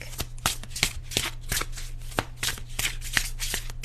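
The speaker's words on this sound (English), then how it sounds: "I'm gonna shuffle still and see what else comes out in this deck" A deck of tarot cards is shuffled by hand in quick repeated riffles and bridges, crisp rhythmic bursts of snapping card edges about every third of a second, close and clear with no talk.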